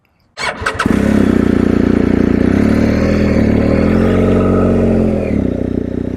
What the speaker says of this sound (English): So I'm gonna hop on the motorcycle and demonstrate.